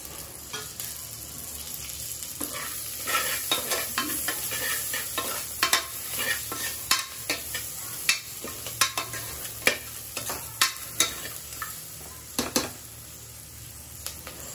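Onions and chopped green chillies frying in a pan for egg biryani, with a steady sizzle under repeated scraping and stirring strokes of a utensil against the pan, close and moderately loud.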